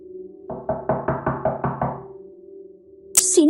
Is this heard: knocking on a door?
yes